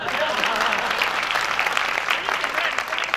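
Steady applause from a large audience at a Hindi kavi sammelan poetry gathering, dense continuous clapping that holds at an even, loud level throughout.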